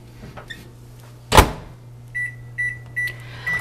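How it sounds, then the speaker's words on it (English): A microwave oven door thumps shut, and a few moments later a series of short, evenly spaced beeps follows as milk is set to heat for bread dough, with no voices. "And put that in the microwave."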